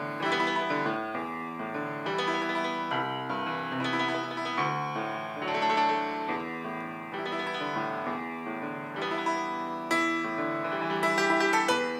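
A solo piano plays a repeated vamp pattern with a melody line over it, steady and moderately loud with no talking.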